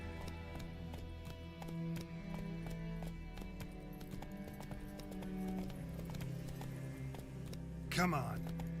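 Geralt's horse Roach galloping in The Witcher 3, a steady rhythmic clip-clop of hooves at close range with a brief whinny near the end, over game ambience and a voice.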